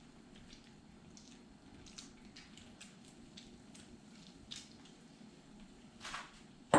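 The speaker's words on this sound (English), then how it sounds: "You can hear it sizzle as it hits the pan." Lemon juice squeezed from a half lemon sizzles in a hot pan while making an apple Dutch baby pancake, a faint, soft crackling hiss with scattered small pops and a louder burst near the end.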